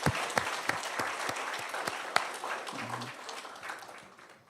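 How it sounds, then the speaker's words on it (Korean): Church congregation applauding a welcome, a brief wash of scattered hand claps with sharp individual claps standing out, fading toward the end, fairly quiet in a large room. "우리 박수로 환영하겠습니다."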